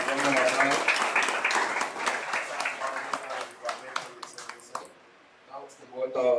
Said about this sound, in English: please give this young lady a round of applause